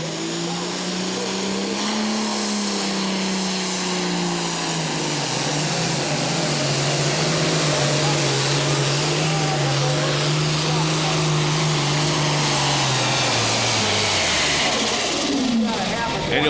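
A Massey Super Farm pulling tractor roars at full power at a tractor pull, its loud, continuous engine note rising, holding through the run, then falling off near the end, with an announcer's voice over it.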